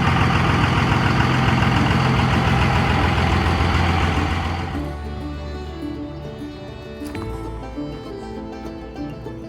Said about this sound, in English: You know I love the sound of these diesels.